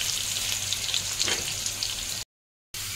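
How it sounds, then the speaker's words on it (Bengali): Potatoes sizzle in hot oil, a close, steady frying hiss with a brief stir near the middle, then a short cut to silence before the sizzle resumes. "আলুগুলোকে আমি একটুখানি ভেজে নেবো লাল লাল করে"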